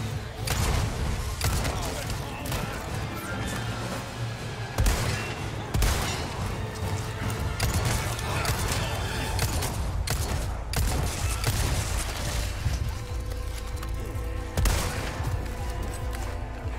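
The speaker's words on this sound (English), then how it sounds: "Who is shooting at me?" Gunfire in Resident Evil 4 Remake crackles in repeated sharp volleys and booming shots over a dense, busy combat din, sustained throughout with talk mixed in.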